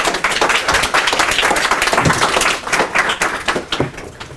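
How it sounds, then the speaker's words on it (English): Audience at a youth event on Agenda 2030 clapping in sustained, dense applause, many hands together at a loud steady level with slight swells and dips. "A big applaud for Johan Hassel."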